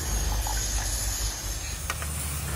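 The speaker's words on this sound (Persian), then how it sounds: "چند جوش که زد سس آماده است" Sauce of onion, grated garlic, walnuts, pomegranate paste, water and salt boiling in a pan, giving a steady close hiss and bubbling with a brief sharper pop near the end.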